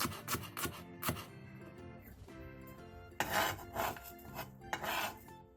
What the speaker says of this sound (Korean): 고추 한 개를 어슷썰게 해주세요.